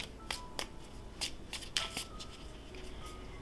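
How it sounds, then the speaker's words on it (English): A deck of oracle cards being shuffled during a weekly tarot-style reading, with several crisp, near riffling snaps spaced across a quiet room. "I wish it was a little bit bigger because it is a bit of a pain to shuffle."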